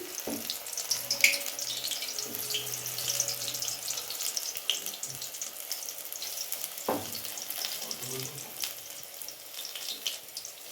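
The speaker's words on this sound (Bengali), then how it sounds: "কড়াইয়ের মধ্যে পকোড়াগুলো দিচ্ছি" Methi leaf pakoras in gram flour batter fry in hot oil in a kadai, a continuous crackling sizzle with scattered pops and a few louder spatters, steady throughout.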